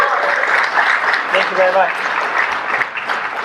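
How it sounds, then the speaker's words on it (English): A conference audience at Inside Bitcoins in Las Vegas applauds in a dense, continuous wash of clapping while someone speaks briefly over it. "Let's give him a big round of applause."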